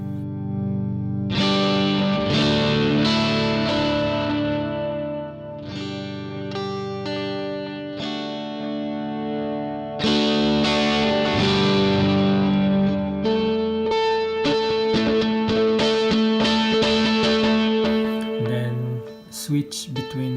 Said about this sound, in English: for a heavy drive, just max out your volume from your guitar.